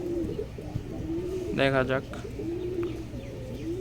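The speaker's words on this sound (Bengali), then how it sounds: "হয়তো একটা মাদি কবুতর সম্ভবত" A black pigeon coos on a rooftop in a short, clear burst near the middle, with faint birdsong and soft background noise around it and a person speaking briefly.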